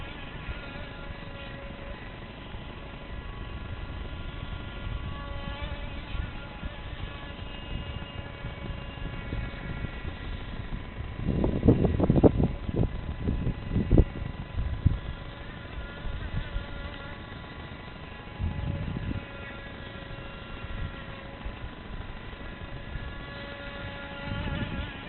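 A small RC boat motor buzzes out on a lake, a thin steady whine with louder, rougher bursts as it runs closer and revs, then fades back to a faint hum amid outdoor background noise.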